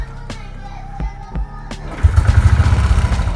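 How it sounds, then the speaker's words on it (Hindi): A Royal Enfield motorcycle with a low battery is started: a few clicks and thumps, then the single-cylinder engine catches and settles into a loud, close, thumping idle. "अभी मैं मोटरसाइकिल को स्टार्ट करता हूँ"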